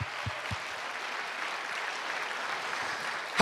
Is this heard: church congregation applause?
yes